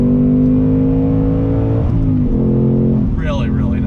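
A 2021 Ford Mustang Mach 1 V8 pulls hard on throttle in third gear, a loud, close engine drone rising smoothly in pitch with a brief dip at a shift, and someone speaks near the end.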